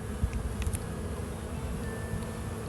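Honeybees buzz steadily during a beehive inspection, with a dense, close drone and a few individual bees passing near.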